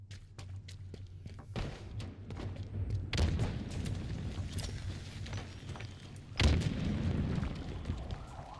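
Gunfire and explosions in Halo Infinite during a ball match: a continuous rumbling hail of shots, with two heavy booming blasts standing out, one early and one louder later.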